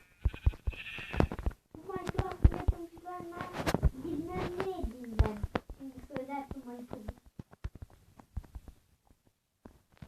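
Sheep bleat repeatedly in a Minecraft-like video game, wavering, nasal cries, several overlapping calls, with sharp game-like clicks and thumps scattered throughout.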